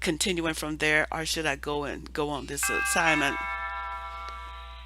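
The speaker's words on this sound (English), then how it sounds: "Had to run downstairs to the doorbell." A household doorbell chimes with ringing, sustained bell tones that cut in under a man's speech and then linger and fade alone as his talking stops.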